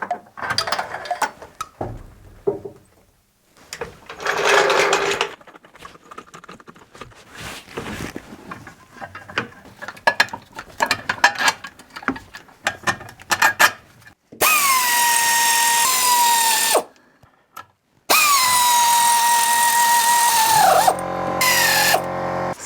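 Tools working on engine mount bolts during a car engine mount replacement, with irregular clicking and mechanical bursts followed by two long, loud steady runs of a pneumatic ratchet whirring, no talk.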